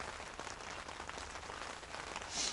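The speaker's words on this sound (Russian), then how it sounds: "Погода испортилась." Steady rain patters on a tent by the Volga River, a constant hiss of drops close by with no voices.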